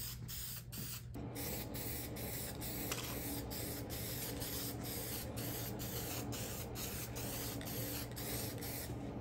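Aerosol spray paint hisses steadily and loudly as a light first coat goes onto a mod project, one long continuous spray close to the can with brief pauses near the start.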